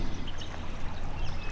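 A river in Western Australia's Eastern Wheatbelt runs full and fast within its banks, giving a steady, close rushing wash of water with no pauses.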